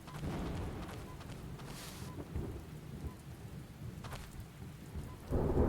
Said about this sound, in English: Storm is still here.